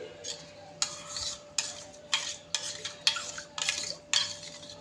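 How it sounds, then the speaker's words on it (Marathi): Spoon stirring spiced buttermilk (masala taak) with sugar and salt in a vessel, a run of repeated scraping, swishing strokes in an uneven rhythm, close and fairly quiet, with a faint steady hum underneath. "आता मिक्स करून घेऊया त्यानंतर थोडीशी साखर आणि चवीप्रमाणे मीठ ॲड करूया छान हे एकजीव करून घेऊया"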